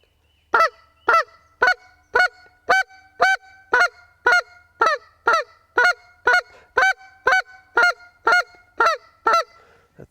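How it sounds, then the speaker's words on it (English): A short reed goose call sounds a steady series of about seventeen short, evenly spaced honks, loud and close, with no other sounds around them. "At 3 different clucks, you have 3 different honks."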